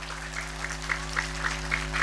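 Faint, sparse clapping comes from the audience at an Islamic religious lecture on marriage, a few slow even claps over a low steady hum.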